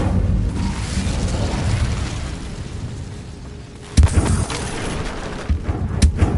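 Incendio fire spell cast in the video game Hogwarts Legacy: a rumbling fiery roar that fades, then a sharp loud burst followed by crackling blasts.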